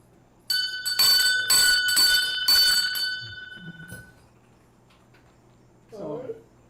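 A bicycle bell rings in a rapid burst of bright metallic dings at a bike-race prize announcement, loud and close for about three seconds, then fading; a voice speaks briefly near the end.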